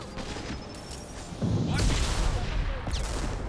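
In the Mass Effect game, rockets fire and explode amid a firefight. A sudden loud blast lands mid-way and is followed by rumbling impacts and scattered gunfire, with a voice speaking briefly.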